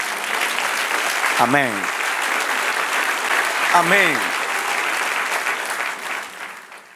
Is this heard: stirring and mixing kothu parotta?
no